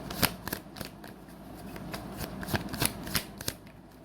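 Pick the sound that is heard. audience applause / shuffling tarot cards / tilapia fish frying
shuffling tarot cards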